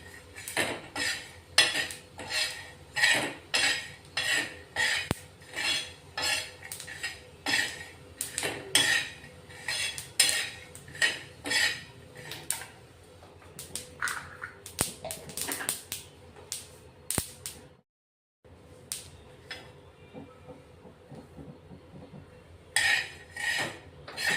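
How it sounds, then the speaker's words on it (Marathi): Sesame seeds dry roasting in a pan give off a busy run of sharp clicks, ticks and light metallic scrapes, close and fairly loud. The sound breaks for a brief silence near the end, then resumes. "तीळ पटकन भाजली जाते तीळला वेळ नाही लागत"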